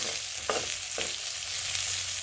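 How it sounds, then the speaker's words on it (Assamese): A mixed fried snack sizzles in a pan with an even background hiss, broken by two brief scraping stirs near the start. "মিক্স ভাজি আছোঁ।"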